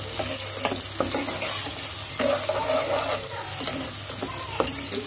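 Cut whole chillies and spices frying in a pan, a soft steady sizzle with light stirring clinks and scrapes.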